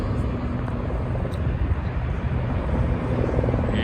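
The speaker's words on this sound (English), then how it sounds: "2 decoy choppers and the main chopper over here." Three helicopters, two decoys and a main one, pass overhead as a steady broad rotor roar with low thudding, moderately loud and continuous throughout.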